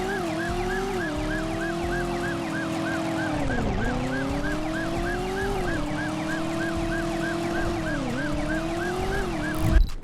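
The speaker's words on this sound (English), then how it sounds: "hitting handbrake turns through tight alleys while sirens were wailing behind you" Police sirens in the PS1 game Driver wail continuously through a car chase, their rising and falling tones layered over a steady engine roar for the whole stretch, with a loud burst right at the end.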